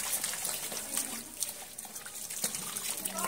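Sidra fish are being rinsed in water, with a soft continuous trickle and light splashing at a low level, no voices.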